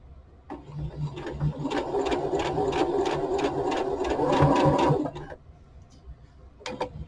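A sewing machine stitches bias tape down the middle of a seam in one steady, rapid mechanical run of about four and a half seconds, close and loud, then stops, with a faint tap near the end.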